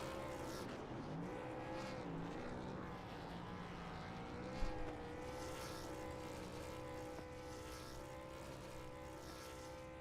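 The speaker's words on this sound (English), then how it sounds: "Good burnout. Well done." A race car doing a burnout at Nashville during a USRC race: a steady, loud engine roar with a sustained droning tone for about ten seconds, broken by one brief sharp bump midway.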